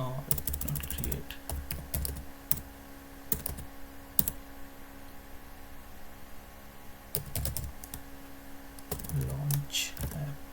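Computer keyboard typing while writing test automation code, heard as scattered bursts of key clicks with pauses between them over a low steady room hum.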